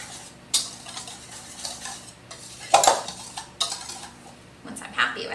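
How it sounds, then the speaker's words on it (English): A whisk stirs flour and salt in a bowl for a lemon loaf cake, making several sharp scraping and clattering strokes against the sides with quiet pauses between them. "now I'm just going to aerate it, breaking up any of those dense pieces"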